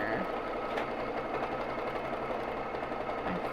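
A Babylock Jazz II sewing machine runs steadily while free-motion quilting with Aurifil thread, a continuous close mechanical whir and rapid needle chatter with no talking.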